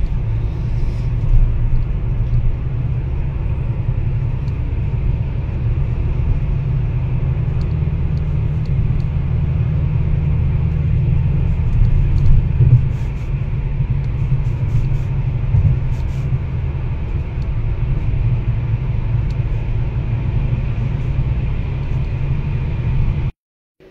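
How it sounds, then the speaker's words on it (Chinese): Mitsubishi car with a rebuilt CVT transmission on a road test on a city ring road, giving a steady, loud low rumble of engine and road noise that runs throughout with little change before cutting off at the end. "目前试了是40公里，咱们就在3环上就这么开，看它转速和提速换挡有没有什么异常"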